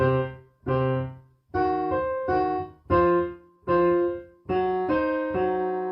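Solo piano playing a slow rhythmic sequence of sustained chords, each struck firmly and left to ring before the next, with no voices.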